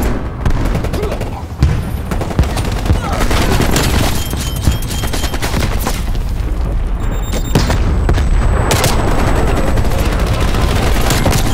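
Gunfire and explosions in Call of Duty Black Ops Cold War multiplayer, loud dense rapid automatic fire mixed with booms, continuous and close throughout with a player's voice talking over it.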